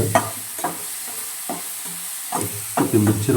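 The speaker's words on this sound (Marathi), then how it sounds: "तेल तापलं होतं आपलं जिरे दिली आणि कांदा टाकला" Cumin seeds and chopped onion stirred in hot oil in a pan for a Marathi masala brinjal dish, giving a steady close sizzle broken by several scraping stirs of a spoon.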